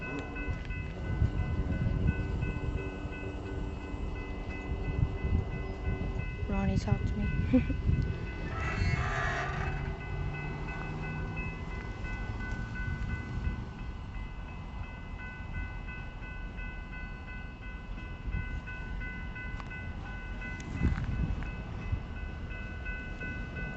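A Kiamichi Railroad train switching, with a steady low rumble and rolling noise throughout, a brief horn-like tone early on and someone speaking once over the sound.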